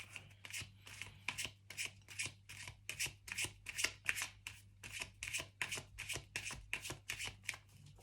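Tarot cards are shuffled and drawn in a steady rhythm of crisp riffling and sliding strokes, close and fairly quiet, with a low hum in the background.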